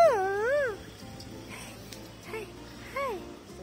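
Several cats meow on a street in Istanbul, one loud rising-and-falling meow close by followed by fainter, more distant meows against low street background noise.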